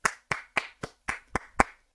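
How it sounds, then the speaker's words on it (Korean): Seven separate hand claps ring out at a steady, brisk pace, fairly close and moderately quiet, celebrating a Softcamp stock price jump during a Korean stock-trading broadcast. "여러분 박수."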